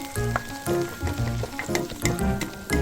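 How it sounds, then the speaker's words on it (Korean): Carrots and garlic sizzle in a pan for stir-fried sundae, with a spatula scraping and stirring in irregular strokes over a continuous frying crackle. "볶아주면서 당근부터 먼저 넣어주세요."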